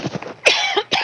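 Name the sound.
coughing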